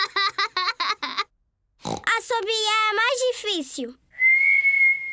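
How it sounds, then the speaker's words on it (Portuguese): A voice whistles a clear, steady tone near the end, after bursts of squealing, oinking cartoon pig voices and a short stretch of talking. "George consegue assobiar."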